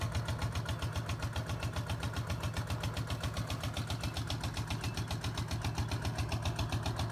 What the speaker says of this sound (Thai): เสียงจะดังนิดนึงครับ ผมพอดีมีเครื่องสูบน้ำครับ